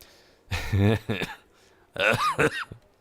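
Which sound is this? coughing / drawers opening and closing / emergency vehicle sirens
coughing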